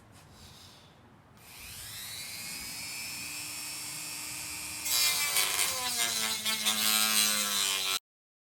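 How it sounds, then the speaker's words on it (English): A Dremel rotary tool whines up to speed and then grinds into a guitar body, a loud sustained high-pitched buzz that deepens and roughens as it bites into the workpiece before stopping abruptly. "And I got the Dremel. Works way better."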